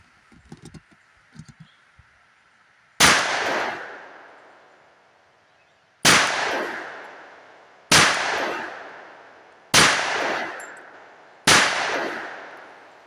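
Five sharp, loud .45 ACP shots from a Glock 30 Gen 5 pistol firing 230-grain lead round-nose hand loads at an outdoor range, spaced a couple of seconds apart, each with a ringing decay, after a few faint clicks and handling noises.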